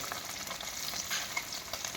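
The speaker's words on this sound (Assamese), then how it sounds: "এয়ে বৰলীয়া মাছ ফ্ৰাই কৰি আছোঁ।" Steady crackling sizzle of borolia fish frying in hot oil, close and continuous, with no voices.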